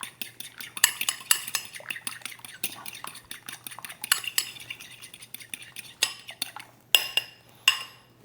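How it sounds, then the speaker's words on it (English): A fork beats one egg for egg wash in a bowl, rapid rhythmic clinking and tapping of metal against the dish, close up and steady, ending with a few sharper isolated knocks. "all you wanna do is just get a fork and just kind of beat it up like this"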